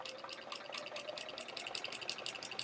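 A sewing machine runs steadily while stitching a quilt block seam for an hourglass quilt, giving a continuous close mechanical whir with a fast rhythmic texture and no talking.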